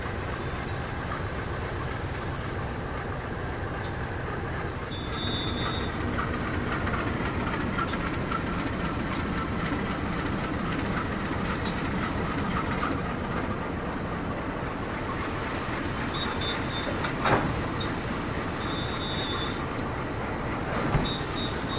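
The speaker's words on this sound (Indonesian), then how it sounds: "Ini lokomotif dinas Kereta Kertanegara baru mau dipasang ya" A CC203 diesel locomotive being coupled to the Kertanegara passenger train at an Indonesian station gives off a steady, close, low mechanical rumble, with a couple of brief metallic knocks near the end.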